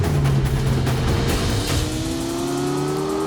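A McLaren W1 hybrid supercar pulls out onto the Mugello circuit, its engine note rising steadily through the gears, loud and close with no talk.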